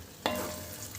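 Prawns marinated in garlic paste and a little yogurt hit a hot pan with a sudden burst of sizzle, then settle into a steady frying hiss while being stirred, close and alone.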